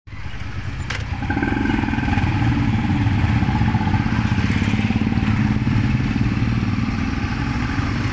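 A group of Royal Enfield motorcycles, including Classic, Standard, Hunter and Guerrilla models, starts up and runs in a lineup before a Sunday ride, with a loud, steady, close engine thrum that continues throughout.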